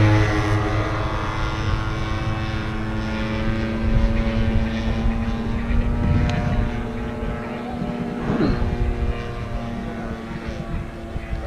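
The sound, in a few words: RC model aerobatic airplane flying at airshow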